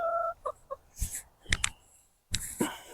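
Several chickens cluck in short, close bursts with brief pauses between, some higher squawky notes mixed in.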